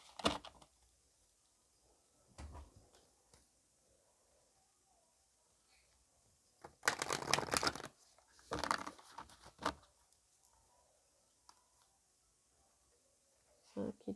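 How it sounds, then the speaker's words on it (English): White Light Oracle cards being shuffled, giving soft riffling and crinkling bursts in a few short clusters, loudest in the middle, with quiet pauses between. "Now I'm going to go ahead and shuffle the White Light Oracle cards here."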